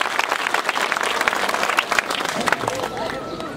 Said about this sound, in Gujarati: જોરદાર તાળીઓથી અભિવાદન કરીશું